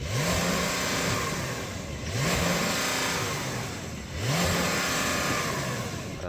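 A Porsche 911 flat-six twin-turbo engine on a track revs up three times in a row, each run climbing sharply and then dropping back, loud and close with no talk.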